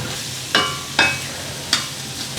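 Crushed spices hit hot oil in a pan and fry, a steady soft sizzle broken by three or four sharp scraping stirs of a spoon.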